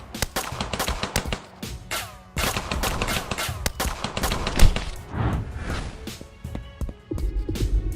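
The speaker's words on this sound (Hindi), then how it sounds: "आरव के आदमी मेहुल के ऊपर फायरिंग कर देते हैं।" Loud cartoon gunfire in a Hindi animated story, a barrage of sharp shots and rattling bursts from men firing at someone, continuous with brief pauses and one heavier bang midway.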